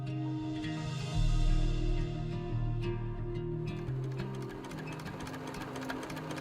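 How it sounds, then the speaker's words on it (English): A sewing machine runs as a tailor sews: a steady mechanical whir with fast stitching clatter over low motor tones, close and fairly loud, with no talking. "the tailor, having gathered together the beautiful scraps, began to sew"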